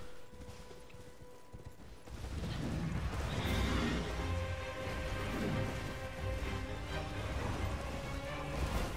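Horse neighing in the video game Elden Ring amid battle noise, a mounted enemy's horse whinnying over dense clashing and rumbling effects that swell after a quieter opening.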